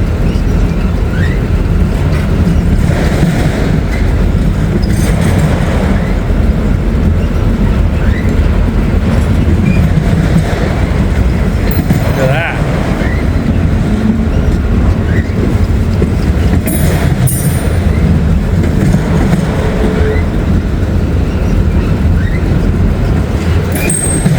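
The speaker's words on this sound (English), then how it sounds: "M209 is usually a very long train" Long freight train rolling steadily past at close range on Northern Kentucky rails, a continuous loud rumble of wheels and cars with occasional metallic squeals, no voices.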